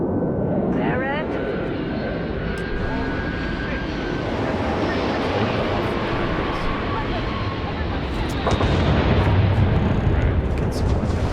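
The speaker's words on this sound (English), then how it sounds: "the scanners on the frontier are reporting a ship coming in hot from orbit" A spaceship comes in hot from orbit in the video game Starfield, a loud, sustained roaring rumble with a swelling, dense jet-like engine wash that builds louder near the end, heard without any speech.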